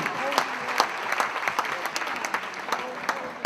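The audience at a women's business conference in Europe claps loudly and steadily. The applause is dense, with sharp individual claps standing out, and it carries on without voices over it.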